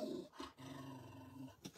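A dog growls in a low, rumbling snarl indoors, a short, fairly faint burst broken by brief pauses and ending in a sharper yip-like sound.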